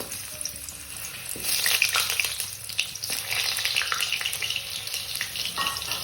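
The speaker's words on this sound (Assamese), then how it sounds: "এতিয়া আলু ভিতৰখন অকমান ৰং অহালৈকে আমি ফ্ৰাই কৰি ল'ম" Potato pieces for chicken biryani frying steadily in hot oil, a dense continuous sizzle with occasional crackles and faint stirring, close and fairly loud throughout with no talking.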